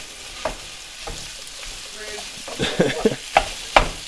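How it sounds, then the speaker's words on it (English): Italian sausage sizzles as it is dropped onto a Ninja Foodi Grill and smashed and broken up with a mix-and-chop tool, with steady frying hiss and scraping clatter that grows busier and louder toward the end. "carefully we're gonna drop our sausage in there. Get it smashed up."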